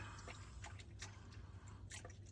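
Fluid dripping slowly from a Honda S2000 during a fluid drain, soft intermittent drips against a steady low hum, fairly quiet and close.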